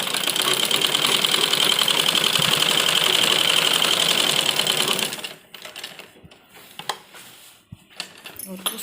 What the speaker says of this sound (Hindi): और डबल सिलाई इसको हम करेंगे, देखिए इस तरह से